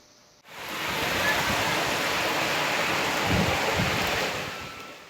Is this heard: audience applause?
no